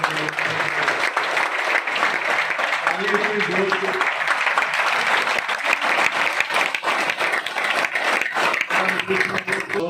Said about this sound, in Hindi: एक बार जोरदार ताली बजाकर